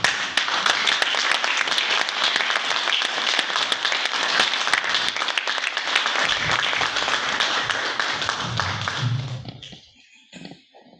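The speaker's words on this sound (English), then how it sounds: "can I ask you to please rise and give him a round of applause before you address" An audience at a formal program rises and applauds, producing a loud, sustained wash of clapping that holds steady for about nine seconds, then fades out quickly with brief scattered claps.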